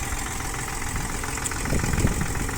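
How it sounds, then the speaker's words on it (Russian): An Iseki TU200 four-wheel-drive Japanese tractor with 844 engine hours, fitted with a rotary tiller, idles evenly with a steady knocking diesel chug heard from a short distance, swelling slightly near the end, with no talk. "Работает тракторок слышно, я думаю, прекрасно, ровненько."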